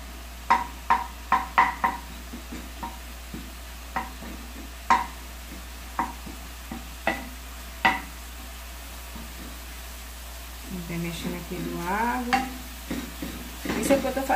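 Rice with carrot and garlic is stirred in a pan, with a series of sharp spoon taps and scrapes against the pan over a faint sizzle, and frying grows busier near the end.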